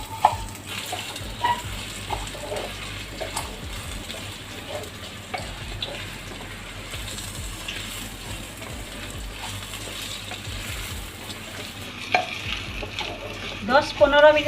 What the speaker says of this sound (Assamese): দহ 15 মিনিটমান এনেদৰে লৰাই থাকিব।